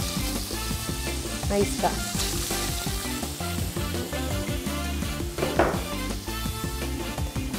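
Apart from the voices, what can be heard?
chicken pieces frying in a little oil in a pan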